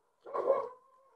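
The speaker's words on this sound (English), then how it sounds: "Dogs in the background, I'm so sorry." A single short dog bark or yelp rings out from a moderate distance, fading into a brief tonal tail, with no talk over it.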